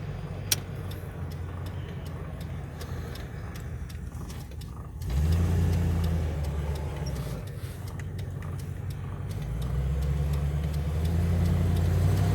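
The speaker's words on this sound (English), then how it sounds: "even driving 40 to 50 k's an hour" Interior of a car moving through city traffic at around 40 to 50 km/h: a low, steady engine and road drone that swells after a brief lull, heard from inside the cabin with no talk.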